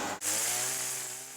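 Power saw started up to prune thorny plant fronds, a brief catch then a loud steady motor whine holding and slowly easing, close by with no talk.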